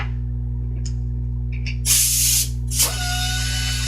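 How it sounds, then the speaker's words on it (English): A KATO helicoil insertion tool's air motor runs in reverse on connected air, giving steady mechanical hum with bursts of loud pneumatic hiss and a brief clicking, close and alone. "Connecting the air hose will cause the air motor to run in reverse or counterclockwise."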